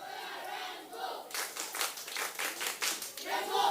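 Students at a school event in Nigeria break into louder, sustained clapping after a short spoken lead-in, with crowd shouts and cheers rising under the applause.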